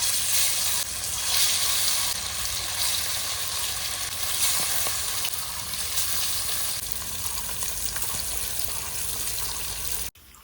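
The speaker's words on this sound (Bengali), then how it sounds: "মাছ আমার ভাজা হতে থাক" Pieces of silver carp fry in oil in a wok, producing a loud, dense, continuous sizzle with a low bubbling rumble beneath. It holds steady for about ten seconds, then cuts off abruptly, and no voices are heard.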